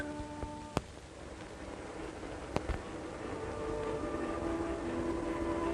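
A steady rumble of a passing Denver and Rio Grande Railroad train fills the clip, with faint distant tones and a couple of sharp clanks over the continuous noise.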